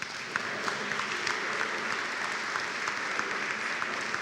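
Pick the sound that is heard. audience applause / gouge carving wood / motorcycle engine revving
audience applause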